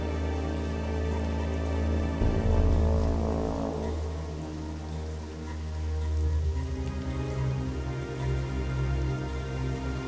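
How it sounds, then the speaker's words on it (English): Steady rain hiss in the Plaguelands of World of Warcraft Classic, an even wash of falling drops over a low ambient drone and game music, continuous for the whole stretch with no talking. "Oh, I didn't know it could rain here in the Plaguelands."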